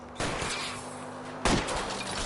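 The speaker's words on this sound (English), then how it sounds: "I'll try to shoot out his tires." Two gunshot bursts fired at a fleeing car's tires in a PS4 detective game, the first starting abruptly and ringing on, a second sharper blast about a second later, both loud and close with no talk.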